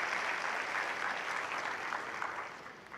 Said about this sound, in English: give Radiance a round of applause for what she has done.